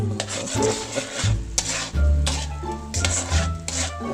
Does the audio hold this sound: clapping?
no